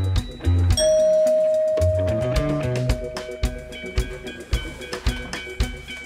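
A small bell rings as a signal in a group-conformity experiment, giving a sharp chime with a long, ringing tone, followed by several lighter struck tones in an uneven rhythm.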